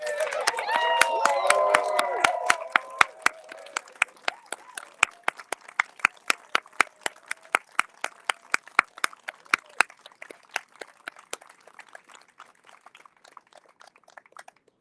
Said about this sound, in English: Leave another round of applause for Chief Turtle.